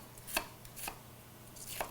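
Knife chopping an onion on a cutting board, three light, crisp strokes spaced unevenly, close and moderately quiet with no talking.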